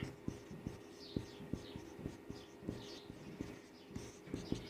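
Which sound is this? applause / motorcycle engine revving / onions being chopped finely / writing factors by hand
writing factors by hand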